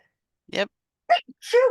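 A single sharp sneeze bursts out close to the mic, followed by a pause and a few brief spoken words.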